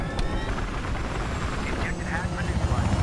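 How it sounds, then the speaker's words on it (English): A video game helicopter gives a continuous whirring, rumbling drone that stays loud and steady throughout, with brief distant bangs mixed in. "Yeah, a helicopter."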